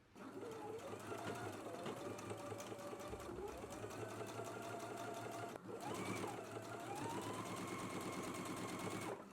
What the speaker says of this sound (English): we are going to stitch about 1/8 of an inch away from the seam onto the pocket